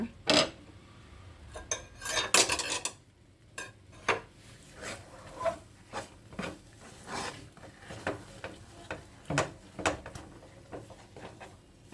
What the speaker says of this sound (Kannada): ನಾನು ಸ್ವಲ್ಪ ಅನ್ನ ಕಡಿಮೆ ಇದನ್ನು ಇನ್ನೊಂದು ಸರಿ ತಿರುಗಿಸೋಣ